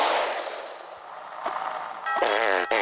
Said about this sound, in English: Farts.